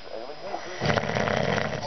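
A man snores loudly while asleep, a rough rasping breath swelling midway and holding, close and prominent, with a voice partly overlapping it.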